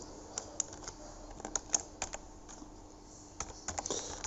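Rapid clicking of keys on a computer keyboard as text is typed into a spreadsheet, irregular bursts of crisp taps close by with short pauses between, no voice over them.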